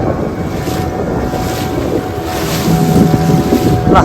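A fishing boat engine drones steadily at sea off Devbag, Malvan, among other boats, with wind buffeting the microphone and water noise throughout, no clear talk.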